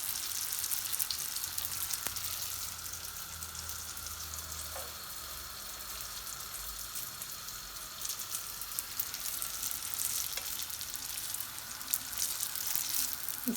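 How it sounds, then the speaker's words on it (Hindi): Chicken spring rolls fry in hot oil with a steady, dense sizzle and crackle, continuous and close, with no talking. "अब हम इन्हें फ्राई करके दिखाते हैं आपको। ये फ्राई कर रहे हैं हम।"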